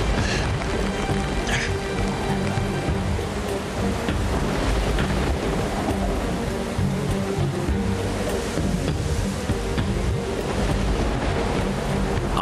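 A fierce storm roars without letup, with wind and heavy rain blending into a dense, loud wash of noise and deep thundery rumbles throughout.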